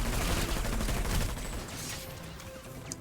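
NS-61 Emissary firing in a video game, a rapid burst of loud close shots that rattle together for about a second before they fade into echoing decay.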